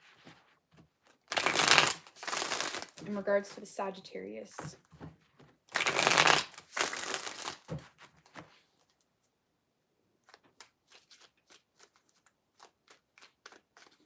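Tarot cards shuffled in short bursts of dense riffling and crisp slapping, two longer rounds followed by lighter scattered taps, with a voice speaking briefly between them.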